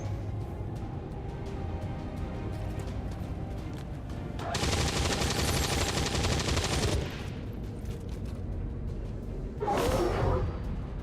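Automatic gunfire in XCOM 2: War of the Chosen, with a sustained, loud rattling burst lasting a couple of seconds over steady game ambience, then a shorter sharp burst shortly after.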